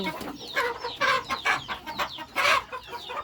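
Several chickens cluck and chatter close by in a coop in an overlapping, busy rhythm, with no talking.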